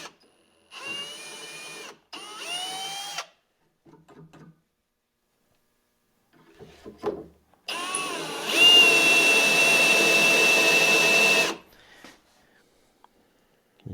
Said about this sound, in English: pull the trigger and push down on the drill